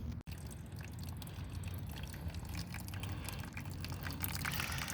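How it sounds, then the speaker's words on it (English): Old coolant draining from a car radiator into a pan, a steady trickling pour of liquid with faint splashing, continuous and fairly quiet. "we're gonna put this under here so the fluids can drain into there"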